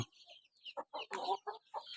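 Chickens being fed in the evening cluck in a quick run of short, close calls, several birds overlapping with brief pauses between bursts.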